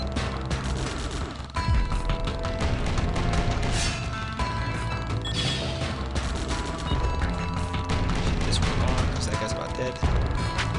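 Turret fire in the iOS tower defense game OTTTD, with dense, continuous loud blasts and crashes packed over game music and effects, with no breaks across the stretch.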